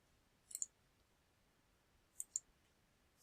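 Mouse clicks while working in Scribus desktop publishing software: a quick pair of crisp clicks, another close pair about two seconds later, and a final single click, faint and close in a quiet room.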